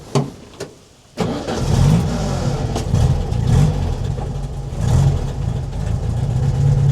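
A 1965 VW Beetle engine cranks over with clicking starter-motor sounds, then catches and settles into a loud, rough air-cooled idle with a few swelling revs.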